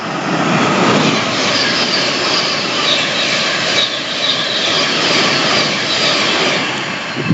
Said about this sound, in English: we have a train that's about to swipe through here